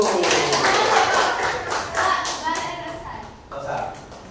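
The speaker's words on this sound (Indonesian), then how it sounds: "beri tepuk tangan untuk kelompok 1" A class of children claps steadily for a few seconds, with children's voices chattering underneath the applause.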